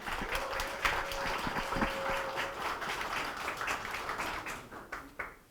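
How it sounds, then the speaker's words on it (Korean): A crowd at a Korean political party rally applauds a deputy leader candidate, a dense wash of clapping that holds steady and then thins toward the end. "큰 박수 부탁드립니다"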